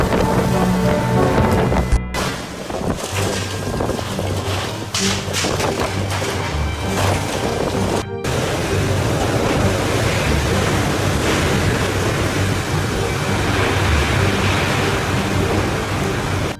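Loud, dense roaring of heavy rain and gusting wind from Typhoon Jebi in Japan, a continuous wash of noise broken by brief cuts, with no voices.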